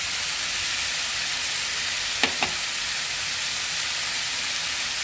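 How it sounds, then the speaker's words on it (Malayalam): Ground chicken sizzling and frying steadily in a pan while being cooked for a chicken lasagna, a constant even hiss with two brief sharp clicks of a utensil midway, no talking. "ഗ്രൗണ്ട് ചിക്കൻ കുറച്ച് കുക്കായി വന്നിട്ടുണ്ട്. ഇത് പെട്ടെന്ന് തന്നെ വെന്ത് കിട്ടും."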